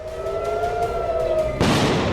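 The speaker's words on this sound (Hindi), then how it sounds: "तेल अवीव में गूंजे सायरन" A steady wailing air raid siren tone drones in the distance over Tel Aviv, then a sudden burst of loud rushing noise cuts in.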